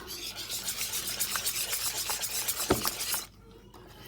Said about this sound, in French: Ensuite, je mélange.